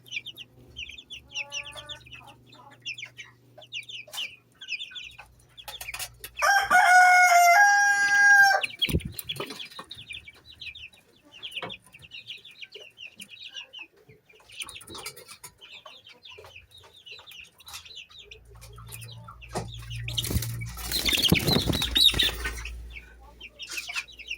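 Eight breeder roosters in a small backyard farm, with loud crowing in the middle and clucking and scattered bird calls throughout, close by and with no talking.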